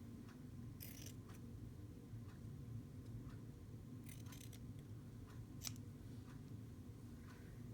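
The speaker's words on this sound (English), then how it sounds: "I want to cut right along that fold." Scissors cutting paper along a fold for a handmade journal, a few short crisp snips spaced irregularly, close but faint over a quiet background hum, with no speech.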